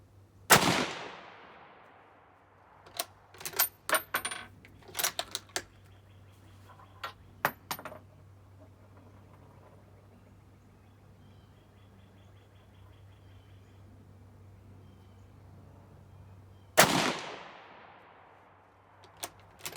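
Rifle fire from a 1917 U.S. Enfield and an 1898 Argentine Mauser outdoors: one loud, close report, a scatter of small clicks and clatter over several seconds, a long quiet stretch, then a second loud shot that rings out and fades.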